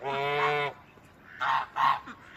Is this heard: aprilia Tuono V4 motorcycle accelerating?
no